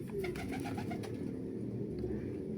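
Pigeons in a coop coo in soft, rhythmic, throaty bursts close by, over a steady background hum.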